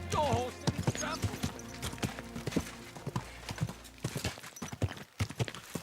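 Horse hooves clip-clopping in the video game Kingdom Come Deliverance 2, a steady rhythmic series of close hoof strikes, with a horse snort at the start and a voice speaking over them.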